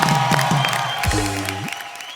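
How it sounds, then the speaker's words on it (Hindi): An audience at a Hindi comedy show gives a standing ovation of clapping and cheering, the crowd noise continuous under a voice that briefly speaks over it. "तो इस बात के लिए खड़े होके तालियां।"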